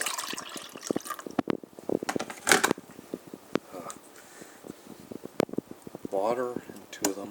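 Water from a pineapple sparkling water bottle pours into a mug holding Gatorade Zero Sugar Glacier Freeze mix, heard as a fizzy, splashing trickle with scattered clinks and knocks. Quiet, close, and broken up, ending in a brief rising gurgle.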